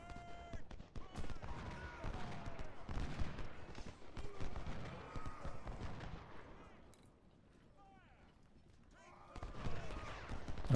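Artillery and rifle fire from a Civil War battle in Ultimate General: Civil War, with dense crackling volleys and booms, easing in the middle before rising again. Some voices are mixed into the battle noise.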